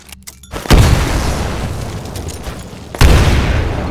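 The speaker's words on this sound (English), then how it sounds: "Throw a grenade into each of the windows." Two heavy grenade blasts boom in a video game combat scenario, each a sudden loud burst followed by a long rumbling decay, about two seconds apart.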